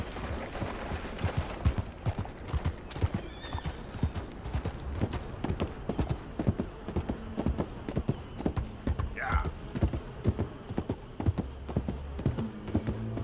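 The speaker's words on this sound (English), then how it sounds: "The beat of horse hooves." Horse hooves from Red Dead Redemption 2 beat out a steady clip-clop near at hand, with a short whinny partway through and a low rumble of game ambience beneath.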